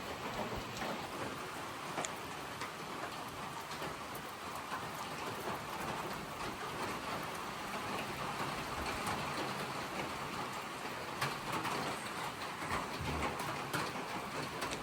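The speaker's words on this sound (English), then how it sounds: "I'm stuck in the shelter right now because of heavy rain." Heavy, cold mountain rain pours steadily onto a trail shelter roof in the Appalachians, a dense unbroken hiss with scattered louder drips and no voices.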